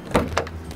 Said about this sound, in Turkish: Arabanın kapısını da bulmak zor, biliyor musun? Ay, kapıyı açmamışım ben.